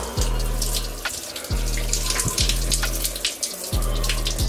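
A cold shower runs steadily during lockdown at home, water spraying and splashing close by with a low rhythmic pumping hum pulsing underneath, continuous and fairly loud with no voices.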